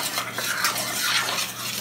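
Steady sizzling and crackling of meat on a hot barbecue grill, with a scraping, stirring texture over a constant hiss.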